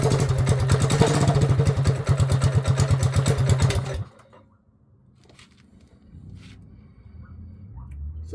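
A cold Coleman B200R minibike engine with 18 lb valve springs, on half choke, runs with a loud, rapid, steady putter for about four seconds, then cuts out to near quiet with faint scattered clatter.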